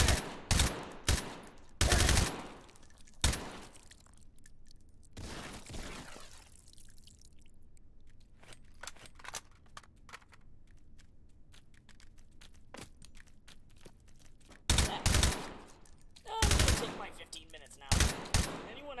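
Gunfire in Hot Dogs, Horseshoes & Hand Grenades with AK rifles, with loud bursts of close shots at the start, a quieter lull of sparse pops, then more sharp clustered volleys toward the end.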